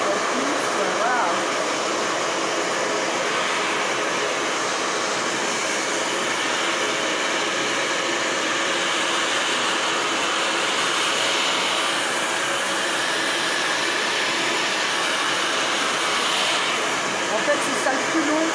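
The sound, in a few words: hair dryer blowing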